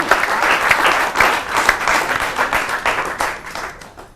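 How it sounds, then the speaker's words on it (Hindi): A crowd at a Holi kavi sammelan gives loud, sustained applause to welcome a humorous Hindi poet, dense clapping that fades slightly toward the end. "एक बार जोरदार तालियों से स्वागत कीजिए कवि रसिक गुप्ता जी का"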